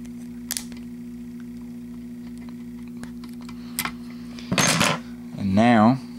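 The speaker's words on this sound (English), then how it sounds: "You need to get back in here with a tension wrench in the middle area." An American 5200 padlock picked with a tension wrench gives sparse close metallic ticks and clicks, then a brief scraping burst and a rattling jingle at the end over a steady hum.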